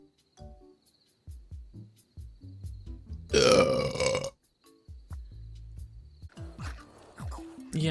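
A loud, drawn-out burp rises in the middle, lasting about a second, with quieter scattered voice sounds and breaths before and after it.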